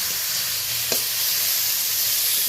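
Onion, green chilli and tomato sizzle steadily in hot oil while being stirred, a continuous close frying hiss with a brief scrape near the start.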